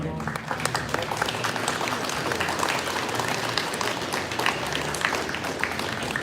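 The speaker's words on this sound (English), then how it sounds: "Can I have a big hand of applause for Corey team for the color guard today." An audience at a Vietnam War Veterans Day event in a community center applauds the color guard, with continuous mixed clapping at moderate volume and faint crowd noise underneath.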